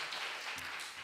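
Congregation clapping in a church during a Sunday afternoon service, a dense, steady burst of applause lasting about a second without any voices.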